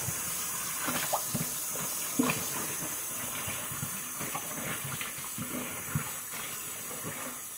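Warm tap water runs steadily from a faucet into a sink for rinsing tie-dyed T-shirts, a continuous close hiss and splash with small clunks and handling sounds throughout.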